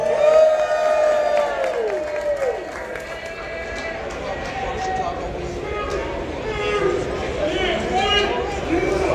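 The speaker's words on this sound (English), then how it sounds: "give yourselves a round of applause and make some noise for yourselves" Crowd at a Chicago-area car show cheering, whooping and applauding, a loud, continuous wash of voices and claps with high shouts rising and falling across the whole stretch.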